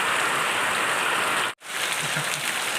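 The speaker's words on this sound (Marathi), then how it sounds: "एवढा पाऊस पडतो आहे बघा" Heavy monsoon rain in Konkan pours down in a dense, steady roar of drops on surfaces, loud and continuous with one brief cut near the middle.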